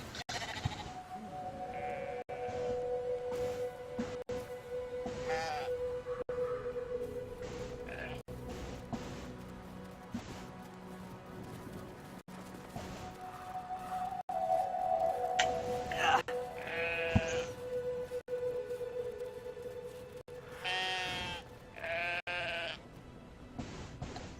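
Sheep bleating in the video game Brothers: A Tale of Two Sons, several wavering, drawn-out calls repeating over a low ambient game backdrop, some overlapping, with soft game sounds between them.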